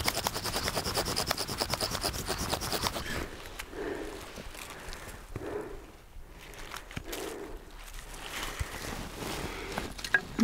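A bow drill friction fire attempt grinds in fast rhythmic strokes, the drill spinning against a hard fireboard and a knife's lanyard hole used as the bearing, then slows into softer, sparser rubbing.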